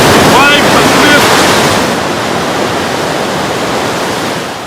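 Ocean waves break and wash onto the shore during a beach lifesaving drill, a loud continuous roar of surf and spray that slowly eases, with brief faint shouts early on.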